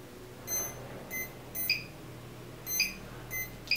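High electronic beeps from a KK2.0 multi-rotor flight controller's low-voltage alarm sound in short bursts, a pair, a single, then a pair and another single, spaced irregularly over a steady low hum.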